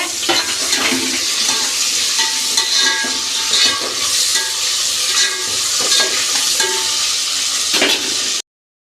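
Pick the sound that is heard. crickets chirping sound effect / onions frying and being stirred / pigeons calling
onions frying and being stirred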